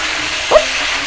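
Garlic fries in a pan for an Indian thali, a steady broadband sizzle with one brief stirring clink midway, close and fairly loud, with no talking.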